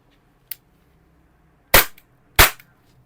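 T-Rex Hi-Capa gas airsoft pistol in full auto, fired in two sharp, loud cracking bursts after a faint earlier click, each ending quickly in quiet surroundings.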